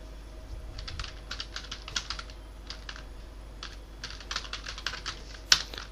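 Someone types into an Excel VBA data-entry form on a computer keyboard, quiet irregular bursts of keystrokes and one sharper key press near the end, with no voices.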